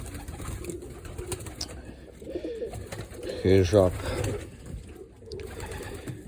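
In a breeding pigeon loft where young pairs are mating, a clear burst of throaty cooing stands out midway, surrounded by soft rustling and someone talking.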